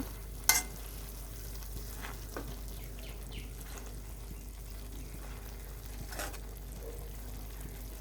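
Singi fish with helencha greens being stirred in a pan: a quiet, continuous sizzle under a low hum, broken by a few sharp scrapes of the spatula, one louder near the start and another later.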